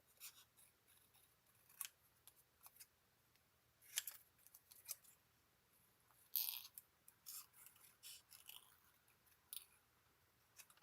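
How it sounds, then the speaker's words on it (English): Paper being cut and trimmed with scissors while crafting a potions-and-spells treat box, heard as faint, intermittent snips scattered through a quiet room, with no talking. "I'm just going to cut this out right here. And I am just going to trim this."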